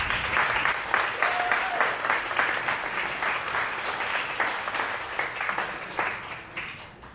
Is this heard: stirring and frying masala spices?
no